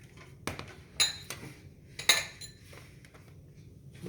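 Ceramic bowls and dishes shifted across a kitchen counter while pasta salad is prepared, giving several sharp clinks and knocks in a loose, irregular sequence, fairly close and clear with no talk over them.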